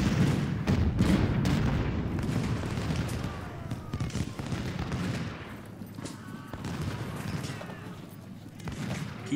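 Continuous musket volleys and booming artillery fire rumble through a Civil War battle at Shiloh in the Ultimate General strategy game, dense overlapping shots that stay loud throughout, with a faint voice underneath.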